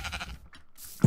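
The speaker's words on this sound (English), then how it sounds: "We have some sheep" Sheep bleating in a video game set on a mountainside, a short wavering bleat followed by a brief, louder call at the end.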